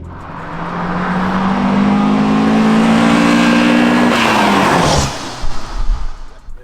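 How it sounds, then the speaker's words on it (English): A classic BMW 2002 Touring's carburetted engine revs hard and steadily, its roar rising and holding loud and close before cutting off, followed by a few throaty blips. "the noise from them carbs is just like. Great."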